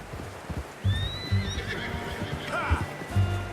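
A horse in the Red Dead Redemption 2 video game gives a clear neigh over soft hoof clip-clops and faint background ambience, with occasional low thuds.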